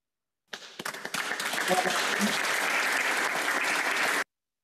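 Audience applause, a dense sustained burst of clapping that starts suddenly, holds at an even level for several seconds and then cuts off, with no speech over it.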